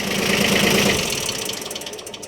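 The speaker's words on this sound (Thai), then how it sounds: "เดี๋ยวผมดับเครื่องก่อน" A Kubota B1400 two-axle compact tractor engine runs at a steady idle, then winds down and stops as it is shut off partway through, leaving a fading rattle close by with no talking.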